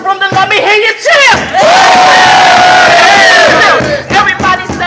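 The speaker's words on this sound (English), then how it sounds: "if a boy's in the room, then let me hear you cheer" A crowd at a poetry slam cheers and yells loudly in a sustained roar, with a speaker's shouted voice before and after the burst.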